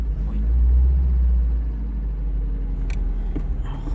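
A restored Fiat 124 engine idles steadily just after starting, a close low rumbling drone with a slight swell early on and a few faint clicks and knocks, with no talk.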